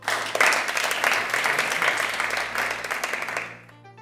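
A studio game show audience claps and cheers in a sustained burst of applause that fills the room, then cuts off abruptly near the end.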